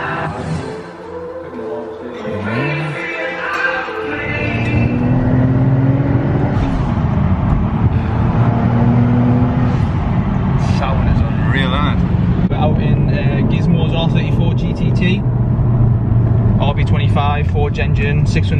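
A Nissan Skyline with a 600-horsepower low-mounted turbo setup, being fitted with a custom exhaust, runs and builds to a loud, sustained engine roar with revving surges, while voices talk over it.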